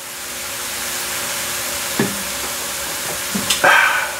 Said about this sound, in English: now when you're gonna cook these mushrooms to a certain point